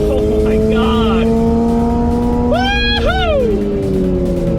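A 2022 Toyota GR86 sports car driving on a race track, its engine note rising and falling steadily through gear changes, with a voice shouting excitedly over the engine.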